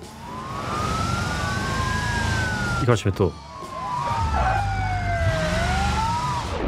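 Police sirens wail in the BeamNG driving game, long rising and falling tones over a steady engine rumble, with a brief thumping interruption midway and a voice speaking briefly.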